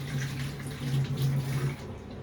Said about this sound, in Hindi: टमाटर को अच्छे से धो लेते हैं।